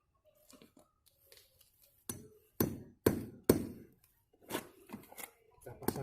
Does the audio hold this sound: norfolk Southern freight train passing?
no